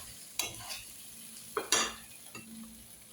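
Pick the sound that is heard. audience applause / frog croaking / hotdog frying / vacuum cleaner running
hotdog frying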